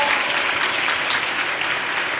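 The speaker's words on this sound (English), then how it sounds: "Let us give them a big round of applause." Students at a school investiture ceremony applaud newly elected cabinet members, loud, close, continuous clapping from a large crowd that stays steady from start to finish.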